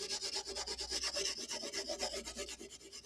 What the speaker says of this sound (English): A little light sandpaper here